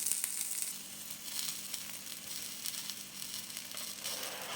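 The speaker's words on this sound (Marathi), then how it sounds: "आता आपल्याला दोन्हीकडून असं चांगलं लालसर फ्राय करून घ्यायचं आहे" Semolina-coated bread toast frying in a pan, a steady close crackling sizzle that runs throughout without any voices.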